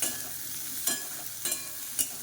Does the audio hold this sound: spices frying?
yes